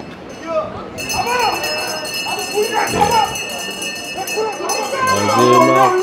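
A lap bell rings steadily and continuously at a middle-school cycling race in Jeonju on a hot day, heard under loud, ongoing commentary.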